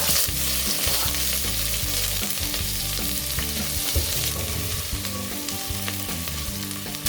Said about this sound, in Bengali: পেঁয়াজগুলোকে লাল করে ভেজে নেব।